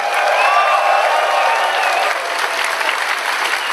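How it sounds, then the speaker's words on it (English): A crowd at a convention closing ceremony applauds and cheers for the guest of honor, dense sustained clapping with cheering mixed in, loud throughout and easing slightly toward the end. "big round of applause and a massive cheer for our guest of honor"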